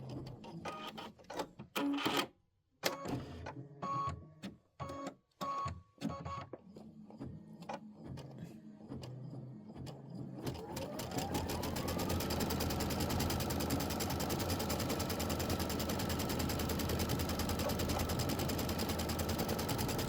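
An embroidery machine stitches a tack-down and decorative edging on a Christmas poinsettia design, first in short stop-start bursts, then settling into a loud, steady, rapid needle chatter that runs close and continuous to the end.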